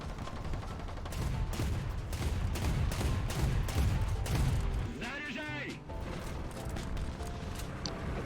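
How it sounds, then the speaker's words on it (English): Rapid bursts of tank autocannon fire in a combat video game, loud and dense with overlapping blasts and mechanical clatter, followed by a stretch of ringing metallic tones and rumble. "probably this thing's autocannon, it might be"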